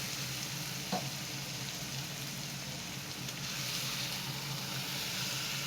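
Marinated chicken being stirred into tomato gravy frying in a pan on a high flame, giving a steady close sizzle with a brief spoon scrape, no voices.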